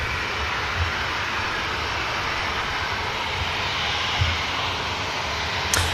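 Ryanair airliner jet engines droning steadily on the runway at Manchester Airport, a continuous loud broadband roar with no talk.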